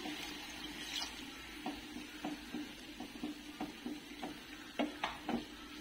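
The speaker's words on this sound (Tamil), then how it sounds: "நல்லா இந்த மாதிரி போட்டு நல்லா மிக்ஸ் பண்ணிடலாம்" Beetroot halwa with added milk being stirred in a pan, a soft bubbling sizzle under a series of irregular spoon scrapes and light knocks against the pan.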